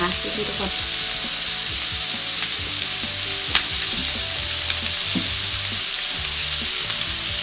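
Pork sizzles and crackles steadily on a hot tabletop grill pan, with occasional pops and faint scraping as the meat is stirred.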